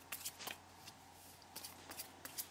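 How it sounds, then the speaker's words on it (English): A deck of tarot cards is shuffled by hand, giving quiet, close riffling bursts and soft slaps at irregular short intervals. "So we're just going to give these cards a shuffle"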